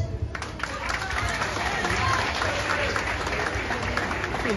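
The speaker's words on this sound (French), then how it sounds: "Applaudissez encore pour une dernière fois." A crowd at a political rally in Haiti bursts into sustained applause, dense clapping building and holding loud across the whole stretch with some crowd noise mixed in.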